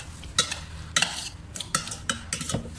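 Raw beef koi salad with fish sauce and seasonings being stirred, giving five or six short scraping, clattering strokes at an even rhythm, close and moderately loud with no talk.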